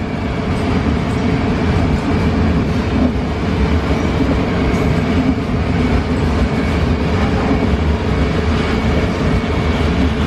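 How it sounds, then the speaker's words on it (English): A very long freight train of ore wagons rolls steadily through a station in Europe, producing a continuous loud rumble and wheel noise for the whole stretch. "Quite a long train."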